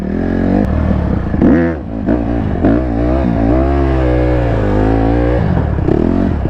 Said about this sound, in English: He's sliding a work truck, bro.